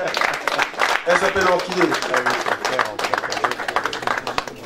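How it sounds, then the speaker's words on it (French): Applause at an awards gala for the Gabonese press in Paris: dense hand-clapping from the audience rises and falls throughout, while a voice speaks over it close to the microphone. "Je vous prie d'applaudir pour elle."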